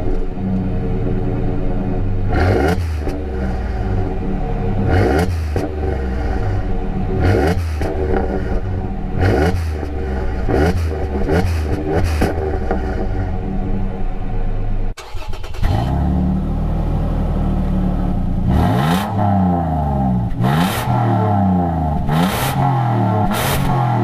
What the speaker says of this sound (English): we'll go right to the exhaust test and then we'll get to the race